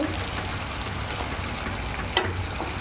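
Masala with curd being stirred in a hot pan for a homemade paneer dish, giving a steady close sizzle and bubbling with a brief scrape of the spoon partway through.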